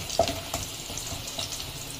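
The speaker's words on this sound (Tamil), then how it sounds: "கொஞ்சமா லைட்டா அடி போட்டு வதக்கிக்கோங்க" Pieces of idli sautéing in hot oil in a pan for restaurant-style chilli idli, a soft crackling fry with a few brief stirring clinks, fairly quiet and steady with no talk.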